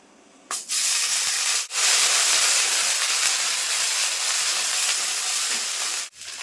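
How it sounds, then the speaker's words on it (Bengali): Ginger garlic paste hits hot oil in a pan for a Bengali silver cup fish curry, bursting into a loud, steady hiss of sizzling that runs nearly unbroken, with a couple of brief dips. "এবার দিয়ে দেবো আদা রসুন বাটা।"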